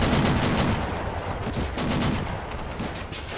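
A .30 cal machine gun fires in Men of War: Assault Squad 2 during a 1944 US Marine beach landing at Saipan. The gunfire is a dense, steady roar of rapid shots with battle noise, and no one talks.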